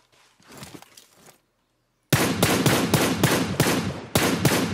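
Gunfire from the video game PUBG Lite: a quieter spatter of shots, a brief silence, then loud, rapid automatic bursts hammering close up with short gaps between them.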